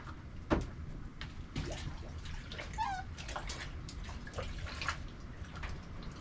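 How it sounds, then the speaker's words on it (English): Raccoon hide being washed in soapy water in a basin: water sloshing and splashing, with soft drips and a few sharper splashes, close by and fairly quiet. "we're washing all the dirt out of the skin"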